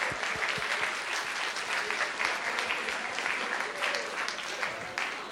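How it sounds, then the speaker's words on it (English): Audience applause for the speakers at a 2014 entrepreneurship seminar, a steady wash of clapping from a crowd that holds evenly for several seconds with no voices over it. "Let's give them another round of applause for a job well done today."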